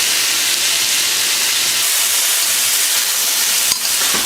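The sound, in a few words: ginger searing in a pan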